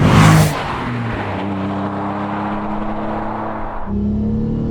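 A loud Renault Clio V6 Phase 1 engine held at high revs, a sharp burst at the start settling into a sustained droning tone that climbs again near the end.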